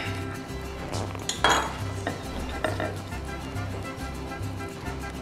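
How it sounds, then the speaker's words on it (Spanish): A crispy breakfast burrito fresh from the frying pan is cut apart, with clinks of cutlery on a plate and crackly crunching close up while someone talks. "escuchen lo crocante que está. Entonces lo voy a partir para que lo vean cómo se ve."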